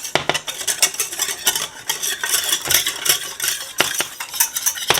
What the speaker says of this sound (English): I'll mix this really well because you want to have a smooth sauce.